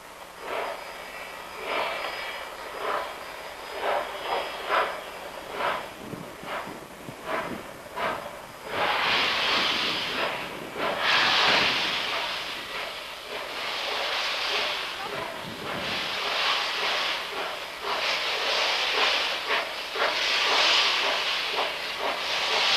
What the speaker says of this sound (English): Heat and cold, steam engine and winter.